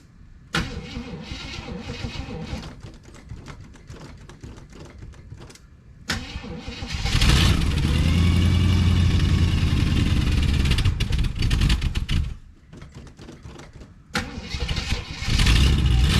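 A 1978 Jeep Wagoneer with an AMC engine cranks in short bursts, then catches and settles into a loud, steady idle close by, with a few uneven revs before it quiets briefly and picks up again.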